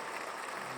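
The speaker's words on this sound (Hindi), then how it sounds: "जोरदार तालियां दोस्तों" Audience applause at a live music event, a dense steady wash of clapping filling the whole moment without any voice over it.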